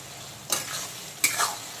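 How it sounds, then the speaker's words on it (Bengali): Tomato, onion and garlic frying for a spicy mutton curry, stirred in the pan on low to medium heat: a steady sizzle with two short scraping stirs, close and fairly quiet, and no voice. "টমেটোটাকে পেঁয়াজ আর রসুনের সঙ্গে ভালো করে কষিয়ে নেব"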